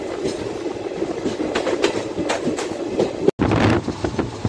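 A passenger train runs into Ahmedabad city with a loud, steady rumble and rhythmic clickety-clack of the wheels over the rail joints, heard from on board, with a brief dropout before the noise resumes.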